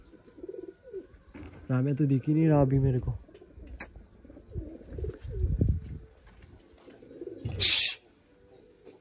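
Pigeons coo in low, rounded calls nearby as someone talks over them, with a brief sharp chirp and a short burst of movement near the end.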